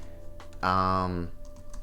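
Computer keyboard keys click lightly and steadily in the background while a voice talks over them.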